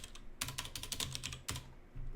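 Quick keystrokes clatter on a computer keyboard, a short burst of closely spaced taps, a pause, then a few more, faint and near.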